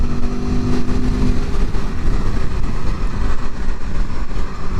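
A 2021 Aprilia Tuono Factory motorcycle on its first ride rumbles loudly as it downshifts, engine pitch stepping and surging over a broad road roar with heavy wind noise, no talking.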